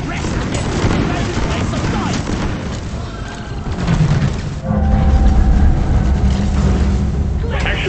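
A grenade goes off in the video game Deep Rock Galactic, a heavy rumbling boom surging in mid-clip amid ongoing game noise and a droning low roar, with voices speaking over the action.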